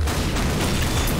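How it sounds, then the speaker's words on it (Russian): Loud, dense booms of RPG rocket explosions in the Garry's Mod sandbox game, a continuous heavy blast rumble filling the short stretch with no speech over it. "Вот это он выдерживает мощные взрывы РПГшки."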